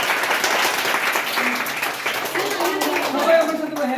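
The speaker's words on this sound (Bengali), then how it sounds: "তো রিয়ার পুরো ফ্যামিলির জন্য সবাইকে একটা হাততালি দাও।" A crowd at a birthday celebration breaks into sustained, dense applause in honour of Ria's family, steady and loud throughout with a few voices mixed into the clapping.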